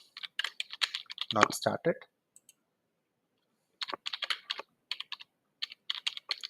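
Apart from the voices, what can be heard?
typing on a computer keyboard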